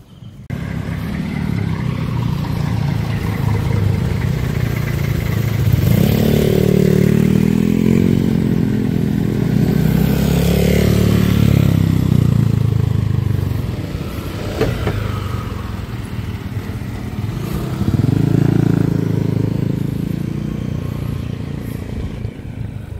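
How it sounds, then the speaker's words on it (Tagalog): A vehicle passes at night on a dark road near a college campus, its engine swelling louder as it nears and fading away, followed by another rising engine pass, heard close without talk. "Oh, may sasakyan pa."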